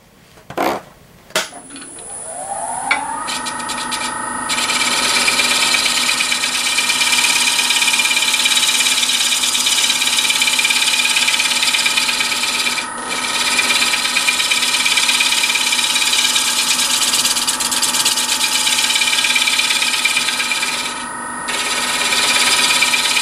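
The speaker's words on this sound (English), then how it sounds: "after some final sanding to blend the top and the bottom" A wooden hollow form spins on a lathe while being sanded, a steady loud whirring hum with abrasive rubbing that runs on without pause after a few knocks at the start.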